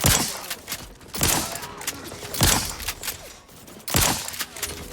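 Gunfire in Outer Worlds 2: four sharp, loud shots ring out at roughly one-second intervals, each with a brief echoing tail over low background game noise.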